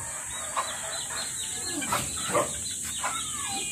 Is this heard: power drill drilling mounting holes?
no